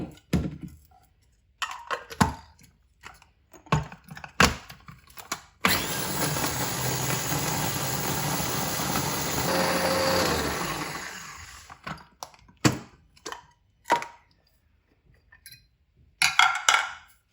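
An electric grinder whirs loudly and steadily for about six seconds while grinding fried spices, surrounded by short clattering knocks and taps before and after.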